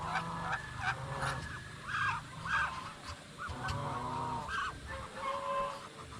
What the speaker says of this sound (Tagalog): Iilan lang yung natira sa ating mga babaeng pabo dito.